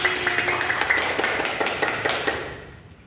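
A small group in a classroom claps in a quick steady rhythm for about three seconds, the claps fading out at the end.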